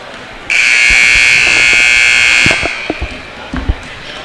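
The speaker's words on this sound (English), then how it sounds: "And there's your buzzer." A loud, harsh arena buzzer marks halftime at an alumni weekend basketball game and blares steadily for about two seconds. Afterward a few thuds and crowd noise follow.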